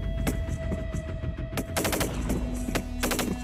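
Swiss army soldiers fire assault rifles during an outdoor exercise, with a series of sharp, loud gunshots, some single and some in quick bursts, cracking over a steady background hum.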